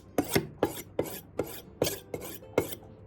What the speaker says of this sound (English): The difference with a whetstone is that it requires a certain angle.